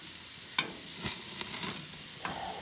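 Thin, boneless marinated pork chops sizzling on a hot cooking surface, a steady close crackle broken by a few sharp scrape-like bursts, with no voices.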